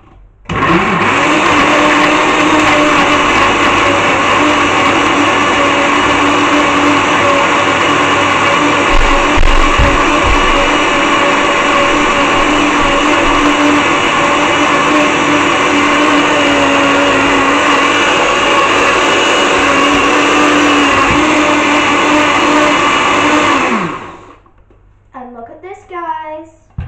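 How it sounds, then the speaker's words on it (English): A loud blender whirs steadily for over twenty seconds, then cuts off abruptly, followed by a few brief voices. "Blend it so you might not be able to hear us."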